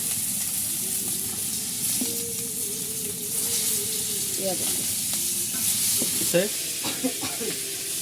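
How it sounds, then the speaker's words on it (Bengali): Hilsa fish fries in a pan with a steady, close sizzle, a faint tonal hum running underneath, and a few scrapes and clinks toward the end as a voice talks briefly over it. "ইলিশ মাছ রান্না হচ্ছে"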